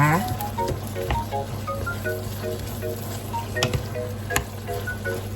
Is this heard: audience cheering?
no